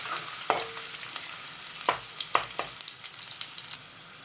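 Garlic frying in hot oil in a pan for an okra curry, a steady soft sizzle broken by a few sharp clinks and scrapes of stirring, close and alone.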